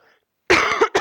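A single close, loud cough with two or three harsh bursts after a moment of near silence.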